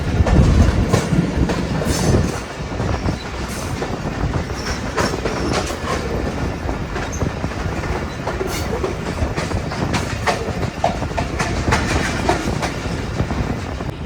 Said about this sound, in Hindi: वही 6:27 पर ट्रेन हमारी पहुंच रही है लकी शाह सदर रेलवे स्टेशन पर